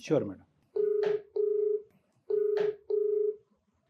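Telephone keypad dialing to place a call, a short rustle followed by four clear, evenly spaced dial tones sounding close and alone.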